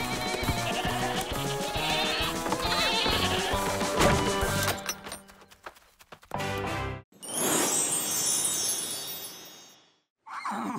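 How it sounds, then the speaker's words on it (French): Goats bleat repeatedly and loudly up close, several voices overlapping, with a brief pause and then more bleating. "Allez, les chèvres, on se dépêche."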